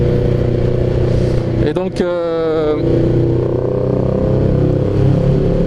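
Loud, steady drone of a modified motorcycle engine running without an exhaust baffle, a first bike, continuous and close throughout, with someone speaking briefly over it.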